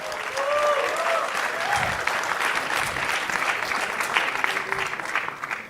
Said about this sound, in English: Let's just welcome them once again with a huge round of applause.